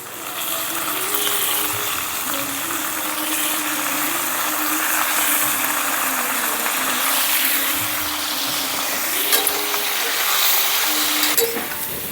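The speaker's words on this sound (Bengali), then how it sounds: "দুটো আলুকে ছোটো ছোটো করে কেটে নিয়েছি পরিষ্কার করে ধুয়ে মাছের মাথার সঙ্গে ভেজে নেব একদম ডাইরেক্ট দিয়ে দিচ্ছি কড়াইয়ের মধ্যে" Potatoes and katla fish head fry in hot oil in a wok, a steady loud sizzle and hiss with occasional scraping clicks as the pieces are stirred.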